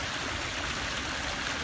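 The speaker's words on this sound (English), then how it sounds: "Waterfall flowing nicely after freshly cleaned filters." A backyard pond waterfall with freshly cleaned filters and plants growing in it pours steadily, a constant close splashing rush that fills the whole moment without pause.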